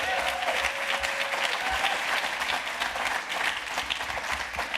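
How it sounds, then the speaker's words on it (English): Audience applause at a panel event defending the teaching of Black studies, a dense, steady wash of many hands clapping for nearly five seconds at moderate distance, with no talk over it. "let's just give them all a round of applause."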